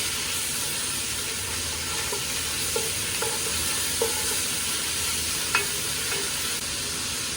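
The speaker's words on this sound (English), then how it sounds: "Get your sausage all nice and brown." Sausage browns in a pot over high heat for jambalaya, giving a steady, loud sizzle throughout. Occasional faint scrapes and clicks from stirring sit on top of the sizzle, and no one speaks.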